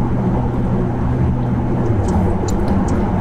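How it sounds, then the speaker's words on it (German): Porsche Panamera 4S E-Hybrid on a motorway with its combustion engine running, heard from inside as a loud, steady low drone blended with road and wind roar, continuous with no talking. "Jetzt ist der Motor an, bei 60 km/h angesprungen."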